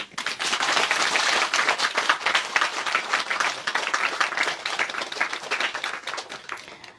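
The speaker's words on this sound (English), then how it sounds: "We applaud them, huh?" An audience bursts into applause, a dense sustained wash of many hands clapping that holds strong for several seconds before gradually thinning out toward the end, with no talking.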